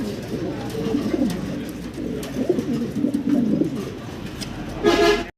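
Agitated pigeons coo continuously at close range in a pigeon house, throaty rolling calls overlapping throughout, with a sharper louder call bursting out near the end.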